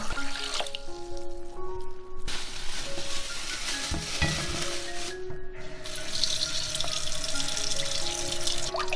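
Pork bones being rinsed under a running kitchen tap, water splashing steadily into a sink with some clatter of the bones, continuous and fairly close throughout.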